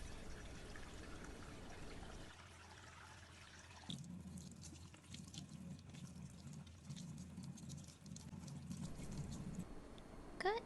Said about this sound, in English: we must wash the natural ingredient with water